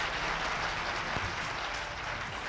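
Steady, dense audience applause at a business opportunity meeting, a continuous wash of many hands clapping at even loudness with no voices over it.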